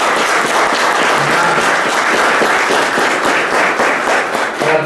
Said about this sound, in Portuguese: gostaria que juntos nós o acolhêssemos com uma calorosa salva de palmas